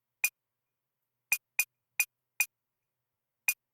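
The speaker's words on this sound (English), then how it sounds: "So for the drums, we're having this tribal sound" Dry tribal-style drum sample from a sample pack for an Afro-type beat, sounding as short, sharp hits spaced irregularly with near silence between them.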